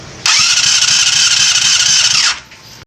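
A Yamaha FZR 250 engine cranks over on the starter during a compression test, giving one steady, loud, high whirring drone of about two seconds that then cuts off. No one speaks.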